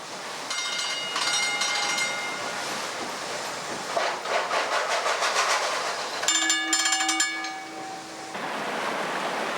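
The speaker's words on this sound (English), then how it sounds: "her twin 500 horsepower, triple expansion condensing steam engines get into their stride" Twin 500-horsepower triple-expansion condensing steam engines of the TSS Earnslaw steamer work in the engine room, a rhythmic mechanical clatter with sustained whining tones and hissing, steady and moderately loud throughout, with no voices.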